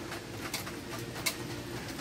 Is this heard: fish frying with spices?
no